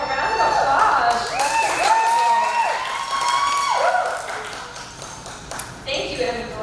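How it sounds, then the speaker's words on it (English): Audience applause and cheers at a pinup contest for contestant Emmy Delight, clapping and whoops loud at first, then thinning out over several seconds. "Give Emmy Delight a round of applause"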